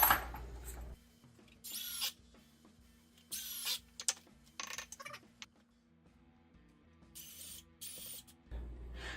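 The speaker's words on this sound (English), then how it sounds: "I'm switching between 2 different settings on my drill here, in between drilling and screwing." A cordless power drill works screws into wood while a potty training stool is built, with several short, loud bursts of whirring separated by quiet pauses, close up and with no talk.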